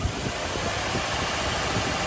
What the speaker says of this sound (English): So while the engine's running, you can help facilitate the engine getting warmer faster by increasing the throttle.